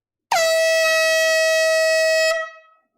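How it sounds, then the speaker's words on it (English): A Super Blast air horn gives one loud, sustained, bright honk, held steady for about two seconds before cutting off, with a short ringing tail afterward. "Here comes the air horn."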